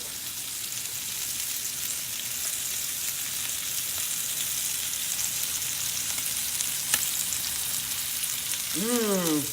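Pork tenderloin sears in a hot pan with a steady, dense sizzle that runs the whole time, one brief sharp click near the end and a faint voice rising at the close.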